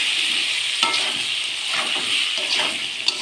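Green plantain pieces fry in hot oil with a little turmeric, giving a steady close sizzle with occasional stirring clicks and scrapes throughout.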